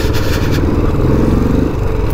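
A motorcycle engine rumbles loud and close while riding through busy road traffic, a steady throaty drone with rough texture and passing traffic noise.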